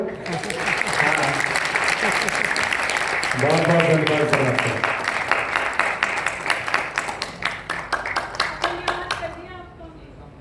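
Seminar audience clapping in loud, sustained applause that thins into scattered individual claps toward the end, with a voice speaking over it partway through.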